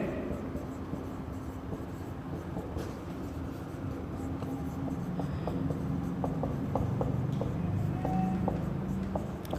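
Marker or chalk scratching out a formula on a board, giving short strokes and taps over a constant room hum, with no talk.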